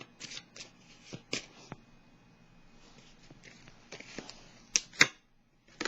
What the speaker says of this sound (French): Je vais déposer une dernière carte pour aller dans la zone d'en haut